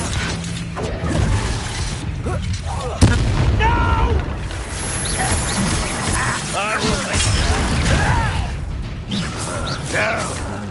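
Fire spell explosions from the Confringo curse in the Hogwarts Legacy video game, a sharp boom near three seconds among dense mechanical clatter and game effects, with voices talking throughout.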